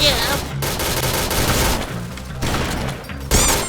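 Rapid gunfire crackles in the shooter game Point Blank, a dense, loud fusillade throughout with brief gaps and a voice speaking underneath.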